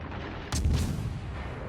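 A single muffled boom of naval gunfire from a warship in the video game World of Warships, fired at a destroyer. It is a brief mid-distance blast over steady background ambience.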